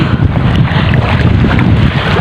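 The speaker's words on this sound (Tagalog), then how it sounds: "Lalaki ng alon." A fishing boat pounds through big waves in strong wind at sea, a loud, continuous roar of wind buffeting the microphone mixed with rushing water, no voices.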